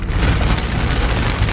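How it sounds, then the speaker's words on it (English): Heavy rain pounding on a car while driving, a dense, loud, continuous hiss and patter with no voices. "Okay, here's the rain."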